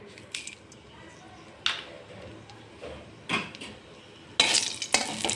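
Cumin and a dried chili tempering in mustard oil, a faint low sizzle broken by a few sharp utensil clatters and stirring scrapes.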